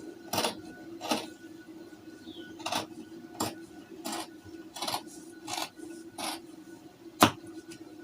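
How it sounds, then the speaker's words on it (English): Scissors snipping through fabric while cutting the back piece of a peplum top: about ten separate crisp snips at an irregular pace, close but quiet, over a faint steady background hum. "I'll cut out the back first."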